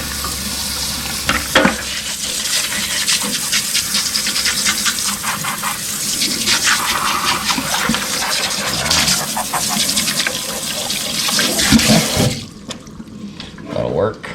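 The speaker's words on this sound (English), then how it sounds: "So we're going to rinse them off and get all this slime off." Running water splashing over freshly caught sting rays to rinse off their slime, a loud continuous gushing spatter outdoors on a breezy pier, cutting off near the end.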